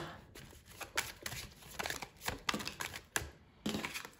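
Tarot cards being shuffled by hand, close and quiet, with rapid irregular riffling and soft slaps in quick succession and no talking.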